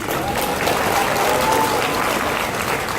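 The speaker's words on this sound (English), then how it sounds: "Can you applaud for that?" Audience clapping at a Venture Brothers convention panel at Dragon Con 2017, a dense, steady burst of crowd applause lasting a few seconds.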